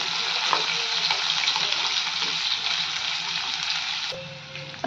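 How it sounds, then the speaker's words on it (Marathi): Onion fries in a pan for a vegetable dalcha, a dense steady sizzle close by with soft stirring scrapes, easing slightly near the end before a couple of sharp knocks. "कांदा छान भाजून घेऊयात।"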